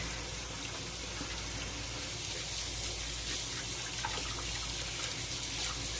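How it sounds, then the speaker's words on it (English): Hands are washed under a running kitchen tap, a steady, close rush of water that continues without a break. "wash my hands real quick"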